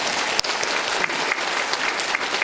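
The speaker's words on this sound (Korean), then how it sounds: "박수 크게 쳐주세요" A church congregation claps loudly during an afternoon worship service, steady dense applause that fills the whole stretch with no pause.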